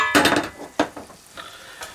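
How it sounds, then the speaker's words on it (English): All-purpose flour tipped into melted butter in a pan, heard as a few soft scraping, clinking handling sounds with brief bursts of rustle and light sizzle, close and fairly quiet, with no talking. "we're going to add 2 tablespoons of all-purpose flour"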